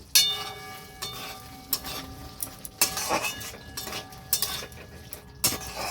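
Cauliflower roast masala is stirred in a pan with a metal utensil, producing sharp, intermittent clinks and scrapes against the pan, close and fairly loud over a faint background hiss.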